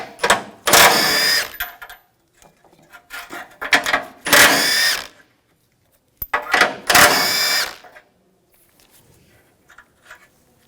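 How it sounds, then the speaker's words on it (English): Ratchet or power driver spinning a 13mm socket to back nuts off a 2014-2020 Nissan Rogue front bumper impact absorber, several loud bursts of a few seconds each separated by quieter handling noises, close up with no talk. "Using a 13mm socket, take these nuts off."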